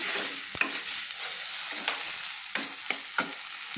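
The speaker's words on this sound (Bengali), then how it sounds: "আমি মশলাটা কষিয়ে নিচ্ছি" Masala with salt and turmeric sautéed in a pan for Bengali bata fish curry: a steady hissing fry broken by sharp intermittent spatula scrapes, close up, no voices.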